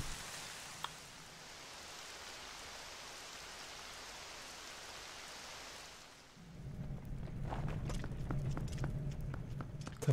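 Rain in Zelda Twilight Princess HD, a steady hiss that fills the first six seconds and then stops, giving way to quieter game sounds with footstep-like taps.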